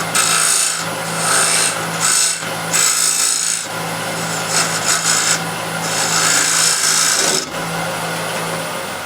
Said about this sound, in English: I'll go with the square and scraper straight in.